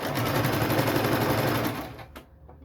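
A sewing machine runs a normal straight stitch through bag lining fabric, a steady rapid mechanical chatter lasting about two seconds, then slowing and stopping into near silence.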